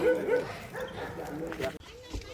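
A dog lets out a few short barks and yips in a Goan neighborhood, partly under a person's talking. The barks come in a quick, uneven burst at moderate distance.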